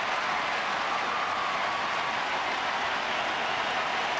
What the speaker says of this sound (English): So the crowd is up again at Minute Maid